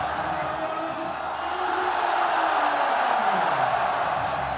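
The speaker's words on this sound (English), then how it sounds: "You will know why the crowd is roaring." Roar of a large cricket stadium crowd after a wicket falls in a Pakistan versus South Africa one-day international, a loud, steady wash of cheering that swells slightly and holds throughout.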